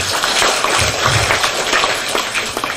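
An audience applauds at a political rally for Anies, steady dense clapping that fills the whole stretch at a loud, even level, with a crowd murmuring underneath.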